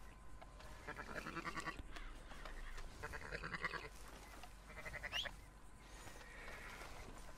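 Sheep and goats bleating in the Red Dead Redemption 2 game world, a few repeated calls from a small herd heard over a steady outdoor ambience, moderately close and fairly quiet.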